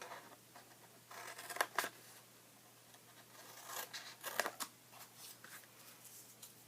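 Scissors snipping paper to trim corners off an Easter treat bag, close and quiet, with a few sharper cutting bursts among soft rustling and no talk.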